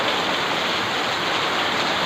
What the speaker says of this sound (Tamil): மழை வரும்னு தெரியும், ஆனால் இவ்வளோ வேகமாக வரும்னு தெரியல. வேகமாக பெய்யுதுங்க.